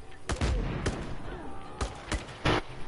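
Video game gunfire pops in several sharp, loud shots spaced irregularly over a continuous rumbling game soundscape.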